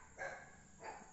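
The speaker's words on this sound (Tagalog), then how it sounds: "Nataho lang ang mga aso." Two short, faint dog barks a fraction of a second apart, sounding somewhat distant with no talk over them.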